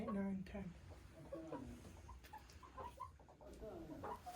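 Newly arrived hens clucking and murmuring inside a henhouse on a farm in short irregular bursts, fairly close, with shuffling and low background noise throughout.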